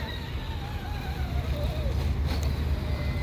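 An Axial SCX6 RC crawler running at full throttle on a 2S battery, a steady whining electric motor and gear drone with a falling pitch sweep, continuous and moderately loud against outdoor wind noise.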